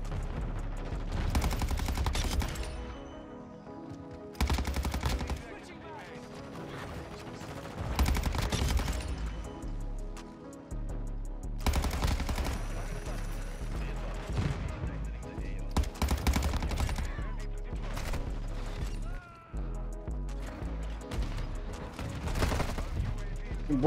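Rapid automatic bursts from a Cronen Squall rifle in Call of Duty MW2 multiplayer, loud repeated volleys with short pauses between them and other gunfire mixed in throughout.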